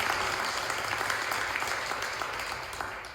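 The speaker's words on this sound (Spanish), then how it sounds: "nos vamos a dar un fuerte aplauso porque nos lo merecemos" A delegates' plenary meeting, where a large crowd gives sustained, dense applause that stays strong throughout and fades slightly at the end, with no clear speech.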